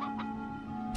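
A countdown timer in the video game Slime Rancher ticks in short, evenly spaced clicks over a steady tonal hum, with no talking.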